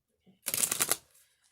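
Small tarot cards are shuffled by hand in one quick, close riffle lasting under a second, with a faint soft rustle before it and quiet after.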